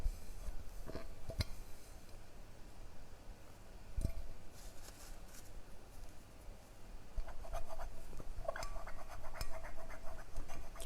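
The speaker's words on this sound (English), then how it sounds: "If I use the branded microfiber again to wipe," A microfiber cloth wipes a greasy surface with plain water, no detergent, giving faint, soft scratchy rubbing strokes with a few sharper squeaks near the end.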